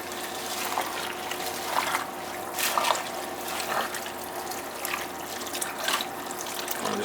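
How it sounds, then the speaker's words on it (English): Water pours and trickles into a cooking pot of pork and vegetable stew with greens in uneven splashing bursts, close by, with no talking. "add some more water to it"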